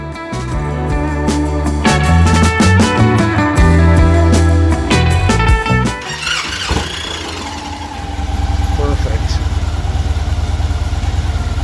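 A motorcycle engine cranks with rapid clattering bursts, then catches and settles into a loud, steady idle rumble.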